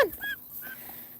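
A hand-raised pet goose honks a couple of short, nasal calls nearby, fairly loud against a quiet outdoor background.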